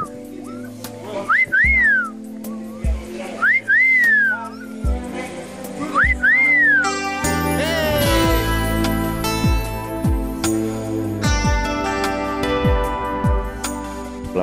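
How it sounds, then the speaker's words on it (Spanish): Someone whistles a short rising-and-falling phrase three times with pauses between, then background music swells and continues loudly. "Chifla, chifla ahí."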